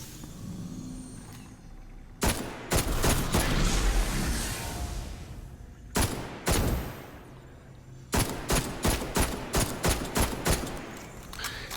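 Automatic weapon fire in Destiny: Rise of Iron, loud bursts of rapid shots in several strings with short pauses between, over a low steady game ambience.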